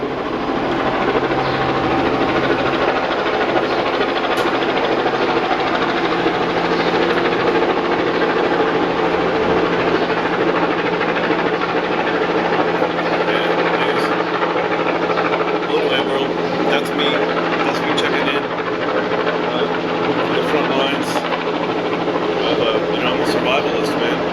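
Steady whirring helicopter drone hovering nearby for the whole stretch, with a low rumbling engine tone beneath and faint scattered sounds on top.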